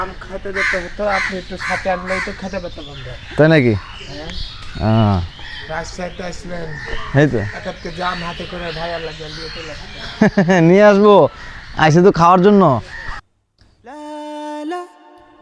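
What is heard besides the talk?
birds chirping by the Padma river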